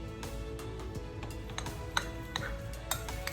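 A utensil stirs açaí powder and vanilla extract in a bowl, giving soft scattered clinks and taps against the dish at close range.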